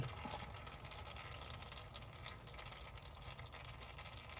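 Engine oil drains from the pan of a 2021 Power Stroke truck in a steady, low trickling pour that runs continuously, close and fairly quiet, with no voices.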